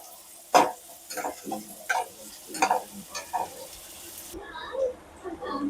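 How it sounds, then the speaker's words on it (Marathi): A small chopped tomato is sautéed in a pan for chicken gravy masala, with irregular scraping and knocking strokes of a stirring spoon over a light sizzle, close and moderately loud. "एक टोमॅटो आहे छोट ते मी चिरून टाकलंय हेही छान असं परतवून देणार"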